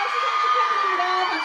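An audience at a 2018 Hong Kong awards ceremony cheers for Cha Eun-woo in a dense wash of high-pitched screams and shouts filling the hall.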